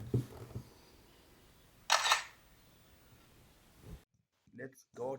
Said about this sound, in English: let's take our first selfie.